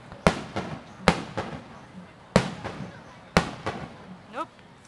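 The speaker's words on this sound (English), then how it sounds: "I'll get back to the fireworks then" Summer festival fireworks burst over Okayama, four sharp bangs spaced about a second apart, each trailing crackles and echoes, with a faint voice or whistle near the end.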